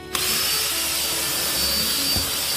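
A Desiderio Plus steam cleaner works over a car seat with a continuous loud hissing whir, broad and steady, with faint scrubbing bumps underneath.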